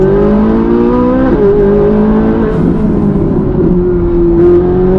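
A Ferrari accelerating hard, heard from inside the car as a loud engine note that climbs through rising gears, with a shift partway through and the strain carrying on to the end.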